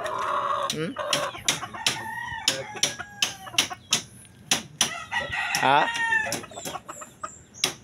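A rooster crows loudly twice amid steady clucking from several chickens, close by, with a brief voice speaking in Filipino.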